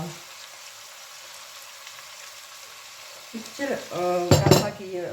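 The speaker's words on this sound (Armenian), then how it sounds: "գազարի և բազուկի հետ, մի քիչ տապակվեն" Beetroot and carrot sizzle and fry in a pan at a steady low hiss, then a spatula stirs and scrapes loudly against the metal toward the end.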